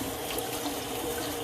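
Warm water runs steadily from a sink tap while a container is filled, a continuous broadband rushing that holds at an even level throughout with no talking.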